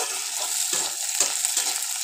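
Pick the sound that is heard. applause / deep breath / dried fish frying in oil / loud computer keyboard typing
dried fish frying in oil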